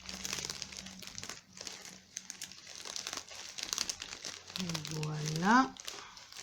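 A plastic package of TENA Discreet pads being opened, with loud, continuous crinkling and crumpling of the wrapper, interrupted by a brief tearing sound. Someone speaks over part of it.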